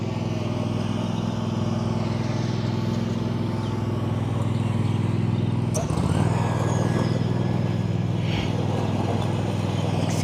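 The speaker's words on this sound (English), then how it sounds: "Excuse the lawnmower. The guy's decided he needs to mow the grass right here just now" A lawnmower cutting grass drones steadily nearby, a continuous engine whine that shifts slightly partway through, with no voices.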